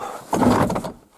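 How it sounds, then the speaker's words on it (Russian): An old wooden door on a forest hut is forced open in one short, scraping grind with a rough rasping creak, loud and close after a quiet start, then fading to silence. "Даже не открывается дверь."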